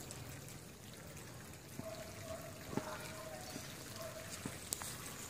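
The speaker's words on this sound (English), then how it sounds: "Down here you can see the water dripping." Water dripping from drip irrigation lines in a greenhouse growing Money Maker tomatoes and cucumbers, heard as a few faint, sparse drops over a quiet background with a thin steady hum.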